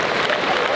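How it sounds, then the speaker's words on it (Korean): Audience applause at a Black Combat 14 MMA event for the fighter Korean Gangster, a dense steady wash of clapping from a crowd, filling the whole short moment at even loudness. "최선을 다해 싸워준 코리안 갱스터 선수께 큰 박수 부탁드리겠습니다"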